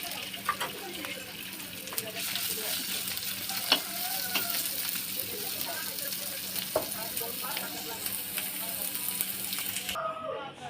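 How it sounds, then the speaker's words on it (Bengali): Boiled pointed gourd peels fry lightly in a little oil in a frying pan with a continuous soft sizzle and occasional stirring scrapes, while someone talks over it. "এই আমি এখন একটু হালকা ভেজে নিলাম।"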